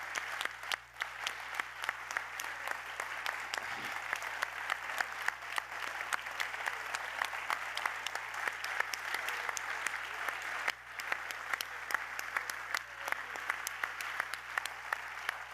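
Sustained applause from a large audience, dense and even clapping that continues without a break for the whole stretch.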